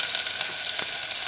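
Onion dropped into a hot tempering pan sizzles with a loud, steady, close hiss that barely changes from start to end.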